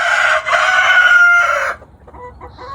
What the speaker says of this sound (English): That's another one of our old chickens.